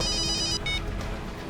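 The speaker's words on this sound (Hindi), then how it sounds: "सर का फोन।" Telephone ringtone trilling in an indoor crime-drama office scene, a repeated electronic ring at moderate volume for about a second and a half before fading into room noise, no voices over it.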